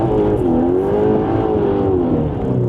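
Cupra Terramar engine pulling hard from inside the cabin, a smooth sporty drone whose pitch rises and dips steadily for a few seconds, loud and close with no voices.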